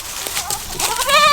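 A goat gives a loud, close, wavering bleat that swells toward the end of a brief moment.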